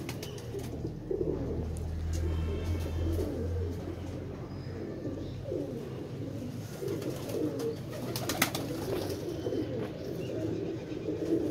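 Pigeons coo in a steady, overlapping low murmur, with a little wing and scuffling noise throughout and a sharper rustle near the middle; no one speaks.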